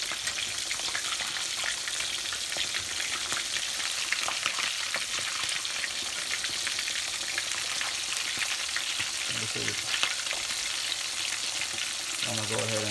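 Salt fish frying in a pan, a steady dense sizzle and crackle of hot oil running throughout, with a few faint clinks near the end.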